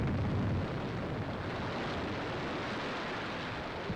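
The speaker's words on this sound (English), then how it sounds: "last staggering explosion shakes the harbor" A huge wartime explosion rolls across a harbor in the Lofoten Islands during a 1941 raid, a dense, roaring rumble heavy in the low end that stays sustained for several seconds at a distance.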